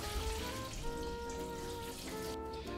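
Cooked noodles drained through a strainer, a continuous hissing, splashing rush of running water with faint tonal ringing, steady and close throughout without speech.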